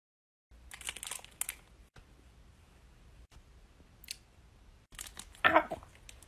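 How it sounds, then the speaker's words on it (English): Scissors snip through a thread in a quiet room, with faint rustling and short crisp cutting sounds, a brief sharp snip standing out near the end. "as I cut this thread in half"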